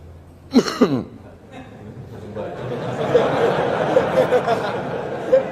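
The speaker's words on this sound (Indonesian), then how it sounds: "Kumat batuk saya." One short, harsh cough bursts out near the start, then fades into a soft, ongoing murmur of an indoor crowd.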